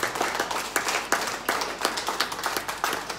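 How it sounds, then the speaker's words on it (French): A church congregation clapping loudly together, a rapid, roughly regular run of sharp claps that continues throughout, close and fairly loud with no talk over it. "Acclame très fort, tu dois l'admirer."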